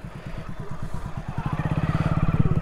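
A motorcycle idles and pulls along close behind on a broken, risky bridge over water, its engine pulsing in a steady, quickening putter that grows louder and more even toward the end.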